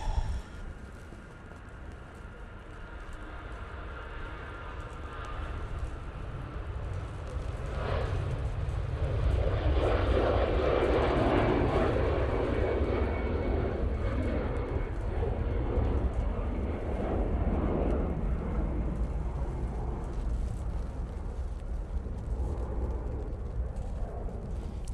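An EasyJet airliner departs Manchester Airport bound for Jersey, a broad steady jet roar that swells from about eight seconds and holds loud and rumbling to the end, with no voices over it.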